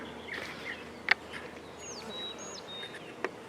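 Honey bee swarm buzzing outdoors, a faint, steady insect hum with brief sharp clicks and chirping birds over it.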